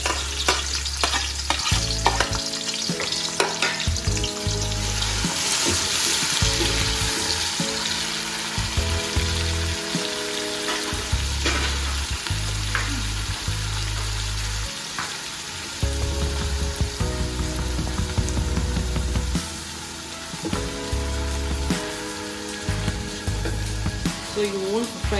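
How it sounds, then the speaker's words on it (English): Onions, ginger, garlic and fresh pepper fry in a pan for pineapple rice, a steady close sizzle broken by repeated scraping and stirring strokes, while a voice talks intermittently over it. "so you want to fry this for about 2 minutes"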